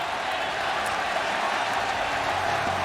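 Esports crowd cheering for Team Secret at the KL Major Dota 2 event, a dense, steady roar of voices and applause that holds loud and unbroken throughout.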